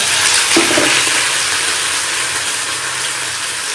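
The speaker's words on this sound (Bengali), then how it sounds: "ফুলকপিটা ভালো করে ভাজতে হবে।" Cauliflower frying in a burnt-bottomed kadai gives a loud, continuous close sizzle with stirring scrapes, spitting harder near the start and easing slightly toward the end.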